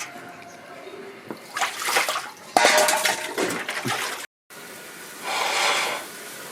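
Tap water runs and splashes over prawns being washed in a kitchen, coming in uneven bursts with a brief cut-off partway through, loud and close.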